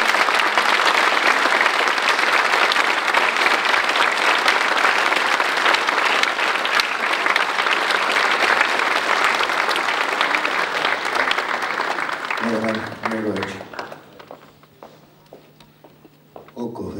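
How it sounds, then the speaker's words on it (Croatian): A crowd gives sustained applause for a Croatian war veteran who went to defend Vukovar, loud and dense for about twelve seconds before tapering off, with a brief voice and a low hum near the end. "Molim vas, dajte mu jedan aplauz."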